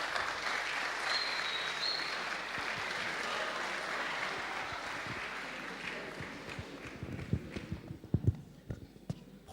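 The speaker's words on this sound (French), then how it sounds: "je vous demande d'applaudir Monsieur John" An audience claps for a speaker opening a conference on peace at a church event, steady and fairly distant, then trailing off into scattered claps and shuffling footsteps.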